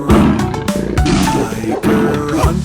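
A tiger roars in a 3D animal hunting video game, a loud, rough growl that keeps rising and falling over a dense backing of music and singing.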